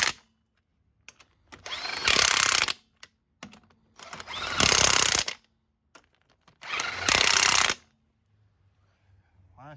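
A power tool tightens the wheels of a C4 Corvette in three loud, close bursts of whirring and rattling, each lasting about a second, separated by quiet gaps with small clinks.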